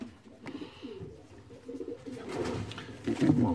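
Soft, low coos from young pigeons repeat close by, murmuring and throaty, with some light rustling in the background.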